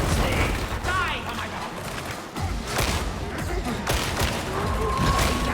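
A grenade explodes amid a chaotic co-op firefight in Warhammer 40,000: Darktide, with repeated bangs and gunfire bursts, a heavy boom near the middle, and voices talking over the combat.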